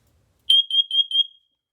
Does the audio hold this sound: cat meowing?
no